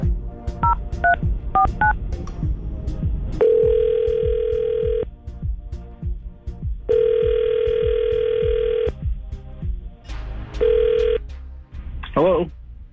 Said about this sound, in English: we're going to try to call Chris